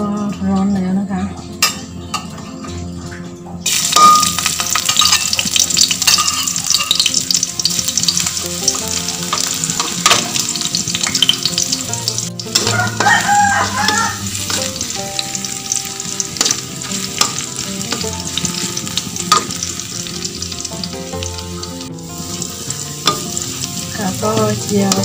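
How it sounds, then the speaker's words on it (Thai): Garlic frying in hot oil in a home kitchen, being cooked until golden for stir-fried cabbage: a steady, close, loud sizzle running throughout, with occasional clinks of a utensil against the pan. "ก็เจียวกระเทียมให้สีออกเหลืองเหลืองนะคะ"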